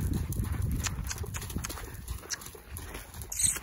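A horse wearing a saddle for the first time moves about, hooves clopping in an uneven rhythm close by, with faint jingling and some quiet background sound.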